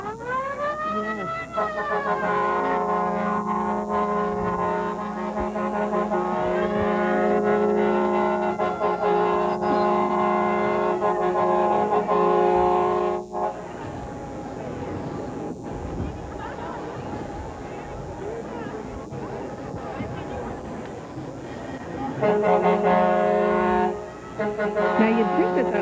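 Santa Claus parade truck in Midland Penetanguishene sounding a loud, fire-truck-style siren wail that rises and holds, cuts out midway, then returns near the end, with people talking through it.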